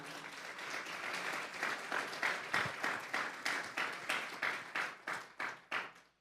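A church congregation claps for the Lord in a sermon on Psalm 18, a steady crowd applause that breaks into rhythmic, evenly spaced unison claps toward the end, fading out at the close.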